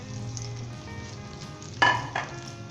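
A chicken leg piece dropped into hot oil for KFC-style broast chicken, sizzling and bubbling steadily, with a brief louder splash and crackle as the piece goes in.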